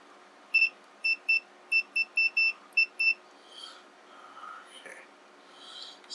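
A multimeter set to continuity gives around ten short, sharp electronic beeps in an irregular series during repairs on a Macintosh Plus. The beeps are close and clear, and faint whispery sounds and handling noise follow them.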